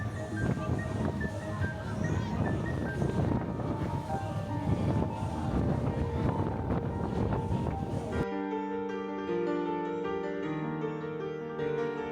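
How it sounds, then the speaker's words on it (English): Strong wind roars steadily across the open deck of the Margaritaville at Sea Paradise cruise ship as it sails out to sea, loud and close for about eight seconds before giving way to music. "It's so windy."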